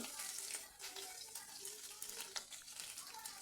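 Chilli paste, turmeric, salt and chilli powder sautéed in a pan for a Bengali fish curry, giving a steady, soft sizzle with light stirring scrapes throughout, fairly quiet and close.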